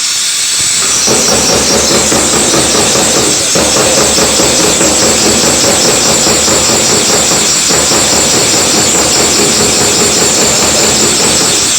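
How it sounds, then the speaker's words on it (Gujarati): A tablet compression machine used for making pills runs at full volume, a dense, rapid rhythmic clatter with hissing noise that continues steadily and alone throughout. "આ રહ્યું આપણું ટેબ્લેટ કમ્પ્રેશન મશીન। એમાં બહુ અવાજ થાય છે"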